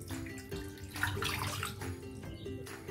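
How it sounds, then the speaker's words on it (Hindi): Water pours into a kadhai for boiling pasta, a soft, steady splashing stream heard faintly and alone throughout. "तो हमने एक कढ़ाई ले लिया है, उसमें हम डाल देंगे 1 कप पानी"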